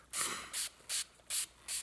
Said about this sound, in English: So basically you take any good quality guitar polish and you just kind of spray it on a little bit liberally